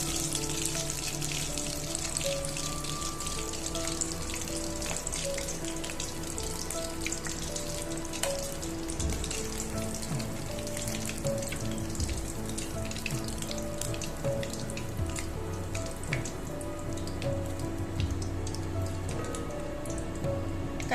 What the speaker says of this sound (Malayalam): നമ്മുടെ കൊഞ്ച് ഫ്രൈ ആയിട്ടുണ്ട്.